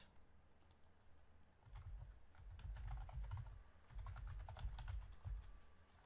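Close keystrokes on a computer keyboard come in two bursts of rapid, uneven clicking with a short pause between, fairly quiet and with no one talking.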